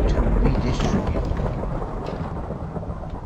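Rain and thunder in Minecraft, a steady loud wash of rainfall with low rumbling thunder that swells early on and then holds as a continuous storm bed, with no talking.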